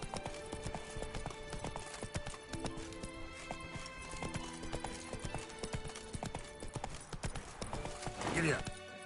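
Geralt's horse in The Witcher 3 clip-clops steadily through a busy game soundscape, with a brief neigh or commotion near the end and voices speaking over it.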